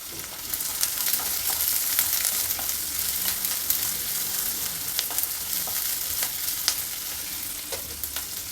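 Onion, green chilies and curry leaves fry in a pan for a ridge gourd palya, a continuous close sizzle dotted with small pops and crackles, with no talking.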